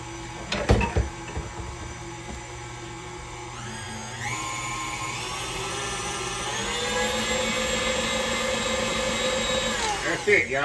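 An electric hand mixer whirs steadily through coconut cake batter after milk goes in, its motor whine shifting pitch as the speed changes, with a few clunks near the start and a rattle at the end.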